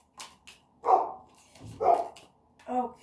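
A dog barks three times in the background, evenly spaced sharp woofs at moderate volume.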